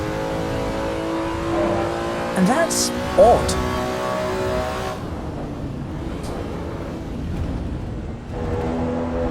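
A car engine revs and pulls under acceleration in Assetto Corsa EVO, a steady harmonic drone with rising pitch sweeps, close and continuous, while someone talks over it and the engine note drops briefly midway.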